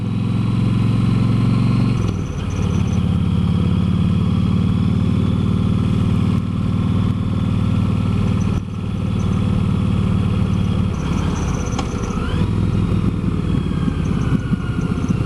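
An old Yamaha VStar motorcycle rides in second gear on a winding road, its engine a loud, steady low drone close by, with a brief dip in revs early on.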